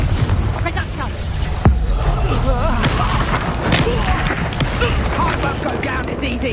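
Confringo spell explosions in the Hogwarts Legacy video game, a dense loud rumble of booms with a sharp blast early on and several cracking impacts, mixed with combat voices and battle noise.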